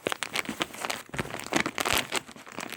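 Feed bag material being cut, a quiet run of crisp crinkling and tearing snips in quick irregular bursts, close and without talk.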